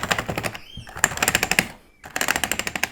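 Rapid, loud clacking of keys on a mechanical keyboard, typed in quick bursts with a brief pause in the middle.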